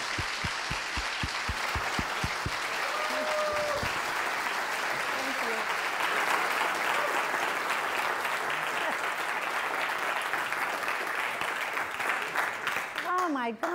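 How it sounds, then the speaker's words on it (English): An audience at a business speaking event gives rousing applause: a few sharp claps build into a sustained wash of crowd clapping, with some voices mixed in before the clapping fades near the end. "Let's make him and Vicki proud by giving her a rousing applause."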